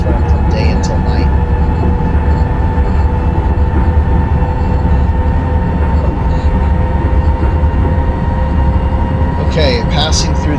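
A train rumbles steadily in the OpenRails simulator, a Pennsylvanian passenger train running toward New York, with a constant loud low drone and whining tones throughout and a few faint clicks near the end.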